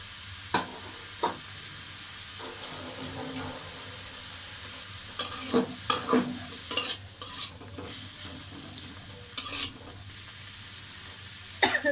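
Leafy greens (shak) fry quietly in a pan while a spatula scrapes and stirs in intermittent clusters of sharp taps over a soft, low sizzle, with no talking.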